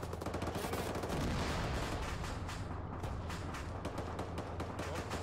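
Gunfire in the military shooter game Arma 3, a dense run of rapid rifle shots and bursts with echoing booms, loud and continuous throughout.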